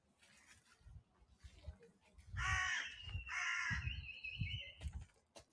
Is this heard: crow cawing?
yes